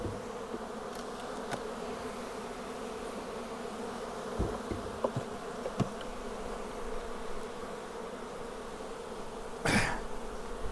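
Honey bees buzzing at an open beehive while honey supers are being removed, a steady soft drone of many insects with brief louder passes of bees flying close by.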